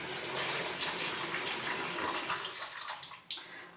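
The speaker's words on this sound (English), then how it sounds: "I need to cover these with cold water" Cold water runs from a kitchen tap into a pan of potatoes as a close, steady gushing stream that shifts in tone as the pan fills, then cuts off with a brief splash.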